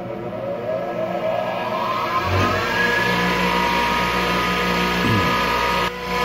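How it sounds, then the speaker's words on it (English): A bench grinder motor whines up from rest to full speed with a rising tone, then settles into a steady loud hum, with a brief grinding contact on a piece of steel partway through and near the end. "I'll spin this up and then grind that piece of steel on here so you can see what it looks like"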